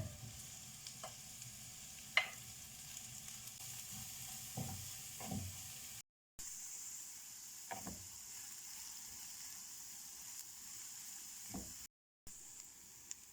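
Carrots and cabbage sizzle in a pan, a soft steady frying hiss broken by a few scraping stirs and light clinks, with two brief silent gaps.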